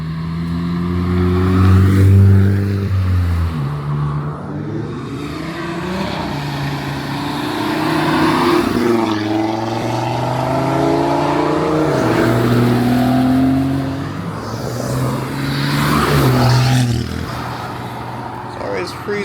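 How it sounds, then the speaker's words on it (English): At a car meet, a car's engine revs and its turbo spools, rising and falling pitch sweeping through several pulls and passes, fairly loud and close with some voices mixed in. "That spool sounds mad"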